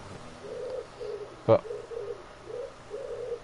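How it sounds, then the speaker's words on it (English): A pigeon coos softly in the background, a few low repeated coos behind faint voice chatter on a call about a racing cup final, with one brief sharp knock partway through. "yeah, sorry, I got a pigeon."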